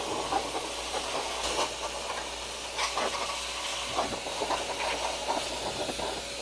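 A Nitecore BB21 electric dust blower runs steadily, producing a continuous, airy rushing hiss at moderate level with slight surges as it sweeps across stored items.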